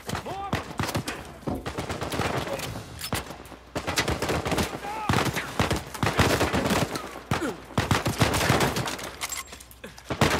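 Dense bursts of gunfire from the Uncharted 4 video game, rapid automatic volleys and sharp single shots, including sniper fire, crackling loudly and continuously across the whole stretch.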